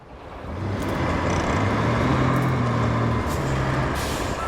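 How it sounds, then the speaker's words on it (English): Heavy truck engine rumbling steadily at close range in the video game RoadCraft, with a continuous low drone and faint higher hisses like air brakes over a broad noisy bed; no talking. "And just bring the truck over."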